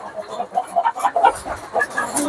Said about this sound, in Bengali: এগুলা সব হলো আমার খামারের মুরগি